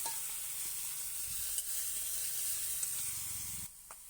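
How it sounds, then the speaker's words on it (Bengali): Tomato, green peas and coriander leaves sauté in oil tempered with bay leaf, dried red chilli and cumin, giving a steady close sizzle and hiss with a few faint stirring taps before it drops off near the end. "টমেটো মটরশুঁটি ধনে পাতা দিয়ে একটু কষে নিলাম"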